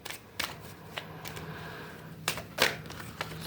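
Tarot cards being shuffled close by, with several quick riffles and soft papery snaps in uneven bursts, fairly quiet and with no talking.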